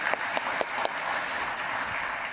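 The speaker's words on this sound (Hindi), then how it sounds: "तो एक बार जोरदार तालियां हो जाए दोनों के लिए" Dense audience applause at a stock market talk show, a continuous wash of many hands clapping with a few sharper claps poking through, steady for the whole stretch.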